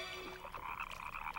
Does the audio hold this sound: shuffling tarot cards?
no